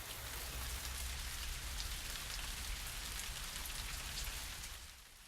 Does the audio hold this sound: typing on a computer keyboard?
no